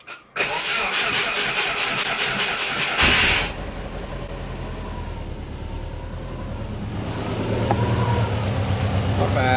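A sleeper Subaru with a custom exhaust fires up after a short crank, catching with a loud burst and rev before settling into a rough, throaty idle that slowly swells louder.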